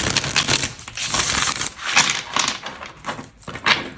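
Rapid papery riffling and flicking sounds of tarot cards being shuffled come close up in quick, uneven bursts, repeated several times.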